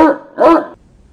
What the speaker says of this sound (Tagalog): at tumahol ang aso.